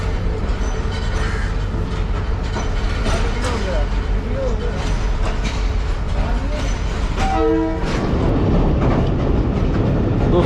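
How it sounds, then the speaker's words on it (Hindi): The 112 Down Badar Express pulls out of Lahore and rolls along with a loud, continuous rumble of wheels and carriages, a horn-like tone sounding near the end, and voices talking over the train noise. "112 डाउन बदर एक्सप्रेस चल पड़ी है लाहौर से"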